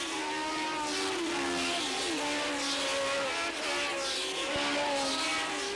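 Historic Grand Prix race cars, including Formula 1 cars such as a March 711, race past at Zandvoort in 1993. The engines scream loudly and continuously with rising and falling pitch as the field sweeps by, and there is no talking.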